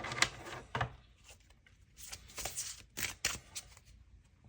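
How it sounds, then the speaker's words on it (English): A tarot deck shuffled by hand, a series of quick riffling bursts and soft card slaps in irregular rhythm, close and fairly quiet, with gaps of near silence between. "I'm gonna shuffle this deck once again"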